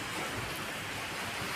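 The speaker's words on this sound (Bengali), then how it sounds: "বাবা বৃষ্টি পড়ছে" Steady rain falls outside during a storm, a smooth, continuous hiss at moderate loudness with no distinct drops or voices.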